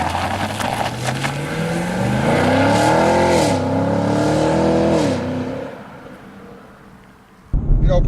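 A 6th-generation Chevrolet Camaro SS V8 revs hard from low-gear cruising as its exhaust valve opens, a loud rising, sustained roar that holds for several seconds, then drops away before a sudden low thump near the end.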